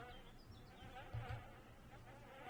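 Bees buzzing in The Town of Light, a steady, faint, low insect hum that swells briefly near the middle of the short clip.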